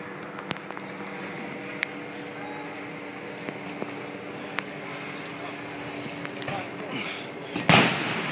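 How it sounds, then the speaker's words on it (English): Police fire into a Ferguson neighborhood during a protest: scattered sharp, distant pops over a steady outdoor hum, ending in a louder, closer burst, while people talk nearby. "They're continuing to fire into the neighborhood."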